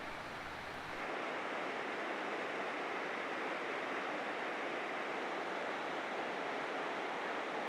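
Rushing water of the Gunnison River in Colorado, running high from late runoff, fills the scene with a steady, loud broadband roar that swells in after the first second and holds unbroken.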